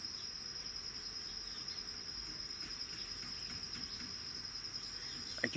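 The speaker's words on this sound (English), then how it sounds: "I can hear bees." Steady insect drone outdoors in Tanzania, given as bees buzzing, a continuous high whine holding throughout with no talk, ending in a brief louder rustle.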